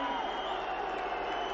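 Boxing arena crowd at a title fight reacting during a standing count in the final round, a steady dense roar of many voices, loud and continuous with no breaks.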